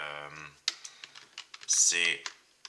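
Keys clatter on a computer keyboard while someone types an SQL query, a short burst of uneven taps followed by a louder cluster of strokes near the end, mixed in with brief speech.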